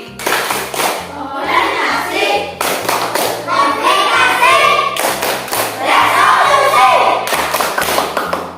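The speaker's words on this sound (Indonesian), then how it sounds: "Mari kita tepuk tangan. Tepuk struktur cerita fantasi." A classroom of children performs a rhythmic clapping chant, patterned claps and thumps in repeating bursts under loud group chanting voices, close and energetic.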